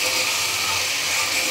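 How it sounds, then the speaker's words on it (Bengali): Spiced masala frying for fish-head mung dal gives a steady, loud, close hiss of sizzling that lasts without a break. "একটুখানি মশলাটা কষিয়ে নেব।"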